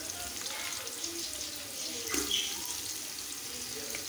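Garlic and ginger sizzle as they fry along with browned onions in a home kitchen pan, a steady close crackle with a brief louder burst midway, while faint talk sits underneath.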